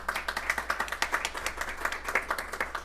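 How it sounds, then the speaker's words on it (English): Audience applause at a school board meeting: dense, steady clapping from many hands filling the whole stretch, moderately loud with a lively rhythmic texture. "let's give her a round of applause and a welcome"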